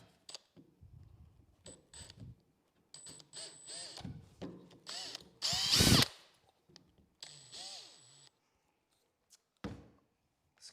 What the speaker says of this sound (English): the hole will essentially ream that dowel to exactly the right diameter